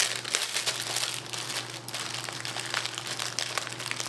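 Plastic bread packaging being torn open by hand, a sustained crinkling and crackling of thin wrapper up close, with a constant low electrical hum underneath.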